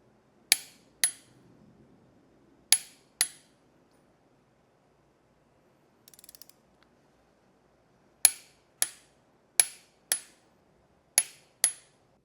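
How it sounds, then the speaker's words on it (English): A torque wrench tightens head bolts on a 12-valve International diesel engine build, giving about eleven crisp, sharp clicks, mostly in quick pairs with pauses between, plus a faint metallic rattle in a quiet shop. "Now these head bolts, all of these are torqued down to 66 foot-pounds"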